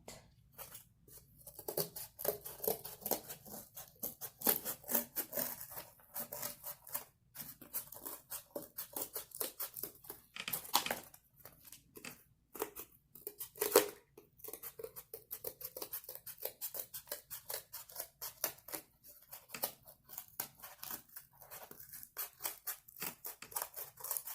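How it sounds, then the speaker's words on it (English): Scissors snip and crunch steadily through cardboard, cutting out a circle in a long run of quick, close, fairly quiet cuts with small pauses between strokes. "Then you're going to take that cardboard and you are going to cut it out"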